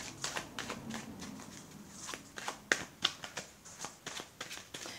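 A deck of cards being shuffled for a card reading, a quick series of close, soft riffling flicks and taps in an uneven rhythm, quiet and with no talk.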